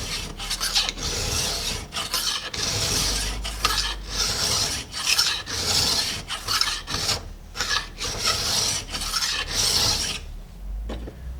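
A hand file rasps in steady back-and-forth strokes along the worn rail of a damaged chainsaw bar, each pass close and loud with brief pauses between strokes.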